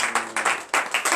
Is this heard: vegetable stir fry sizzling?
no